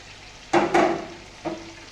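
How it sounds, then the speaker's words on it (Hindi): Kebabs sizzling in a hot frying pan, with two loud crackling bursts close together followed by a softer flare a moment later over a low background hiss. "अब ये फ्राई होते जाएंगे"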